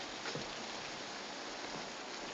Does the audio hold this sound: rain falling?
yes